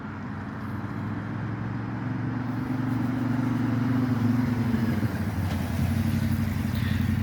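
A Yamaha Tenere T7 motorcycle rides in, its engine a steady, rumbling drone that swells slightly as it draws nearer and then holds at a moderate distance.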